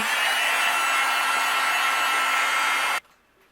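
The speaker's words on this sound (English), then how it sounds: "I'm going to go ahead and take my heat gun and we'll melt it" A heat gun melting white embossing powder blows a steady, loud airy whir for about three seconds and then shuts off abruptly, leaving near silence; no one speaks.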